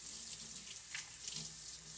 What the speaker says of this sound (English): I can leave the water running because I don't want to touch the handle